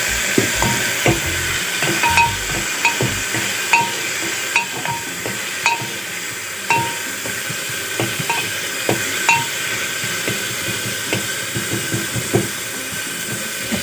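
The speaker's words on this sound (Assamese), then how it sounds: "এয়া তেলখিনি গৰম হওঁতে মই এইখিনি খুন্দি লোৱা তেজপাত কেইটা দিছোঁ।" Crushed bay leaves fry in hot oil, a loud continuous sizzle with a steady run of brief crackles and spatters throughout.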